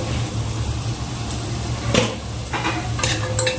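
Spices, chilli powder, coriander powder, cumin powder and salt, being stirred into pulao in a pan, with a soft steady sizzle and a few sharp spoon scrapes and clinks against the metal.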